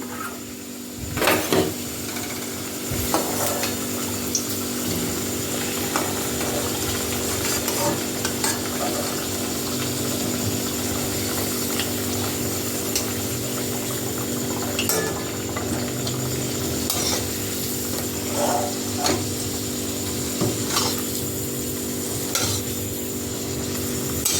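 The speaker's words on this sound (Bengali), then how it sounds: "আলুগুলো ভাজা হয়ে এসছে লাল লাল করে। এবারে দিয়ে দেবো পেঁয়াজটা" Potatoes and onion fry in a pan with a steady close sizzle, punctuated by clinks and scrapes of a utensil stirring, plus a constant background hum, with no voices.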